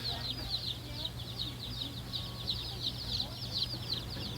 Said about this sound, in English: All those cute little chicks.